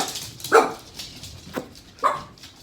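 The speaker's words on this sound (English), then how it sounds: "They actually kept the barking to a minimum." A few dogs in a home bark in short, separate bursts: a sharp double yap, a softer one, then another bark. Each is moderately close and set against quiet room background.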